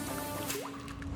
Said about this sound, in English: We're gonna pour this into the bag over our chicken quarters.